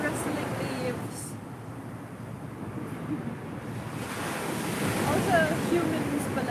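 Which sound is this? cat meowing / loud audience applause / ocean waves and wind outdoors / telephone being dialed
ocean waves and wind outdoors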